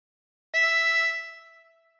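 A single blown note on hole 8 of a harmonica rings out clear and close, holds for about half a second, then decays slowly into silence.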